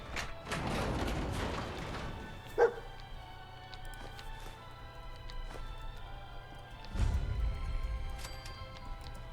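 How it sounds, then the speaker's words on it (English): One dog bark sounds in the distance amid a busy, layered Fallout 4 game soundscape with faint music and scattered clicks. "Where's that dog bark coming from?"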